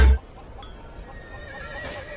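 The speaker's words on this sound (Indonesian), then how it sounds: "Hingga tiba-tiba seekor kuda keluar dari kandangnya dan Govin tidak sengaja menungganginya." Horse neighing: after a brief loud thump at the start, a wavering whinny rises and falls, close and clear, with no talk.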